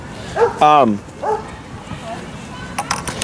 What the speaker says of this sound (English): We just gotta watch for, these off-leash dogs.